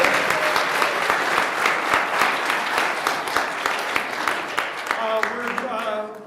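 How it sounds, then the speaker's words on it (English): Audience applause at a live-streamed new venture competition, lively clapping with distinct individual claps standing out, tapering off as a voice starts speaking near the end. "A round of applause for Ted McGuire for getting us microphones."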